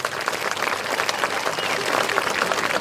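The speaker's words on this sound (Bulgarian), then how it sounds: "Аплодисменти за госпожа Георгиева." Audience applause fills a school's 100th-anniversary festive concert, a dense, steady wash of many hands clapping at even loudness for about three seconds, with no talk over it.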